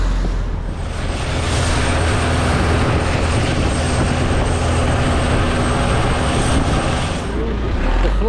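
A diesel engine on a tour boat heading to James Bond Island drones loudly and steadily, a continuous rumbling hum with a faint high whine throughout, with voices underneath.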